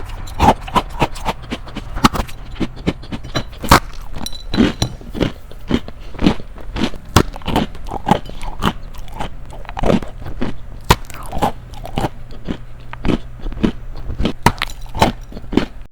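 Loud, close crunching as crispy baked bread from a bakery is bitten and chewed, with sharp crackling bites recurring in an irregular rhythm throughout, no talking.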